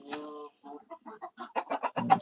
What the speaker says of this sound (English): These chickens are called udons.